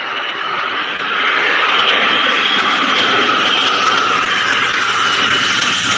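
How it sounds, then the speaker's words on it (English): F-22 stealth fighter jets fly past with a broad, roaring jet-engine rush that swells after the first second and holds loud and steady, with no talk. "So these are the world's only true stealth fighter jet besides the F-35 that is actually functioning"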